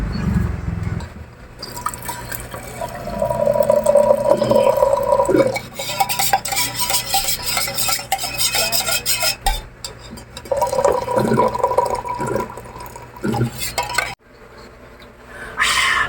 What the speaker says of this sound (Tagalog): Okay, lagyan natin may tubig.